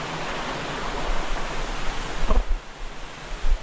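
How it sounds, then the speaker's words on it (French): A small waterfall on a hiking trail to the Roche qui Pleure gives a steady, broadband rush of falling water at moderate level throughout, with a few brief footstep-like knocks near the end. "ce qu'on peut qualifier de cascade, je pense. Une petite."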